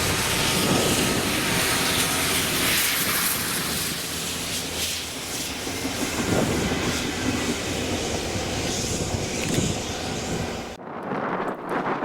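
Class 66 diesel locomotives 66111 and 66130 haul a railhead treatment train from Stirling to Slateford Depot in Scotland, a loud, continuous close rumble and roar that cuts off abruptly near the end.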